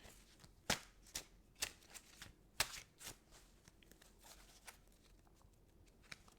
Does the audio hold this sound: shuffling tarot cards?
yes